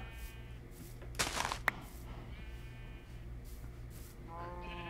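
Sheep in the Minecraft video game bleating softly in a few short wavering calls, quiet under a low steady background hum, with a brief thunk in the middle.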